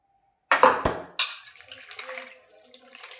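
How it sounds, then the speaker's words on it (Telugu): Something being rinsed by hand in a vessel of water, a few sharp splashes and pours followed by softer sloshing and trickling, close and alone. "మళ్ళీ ఒకసారి కడుగుదాం."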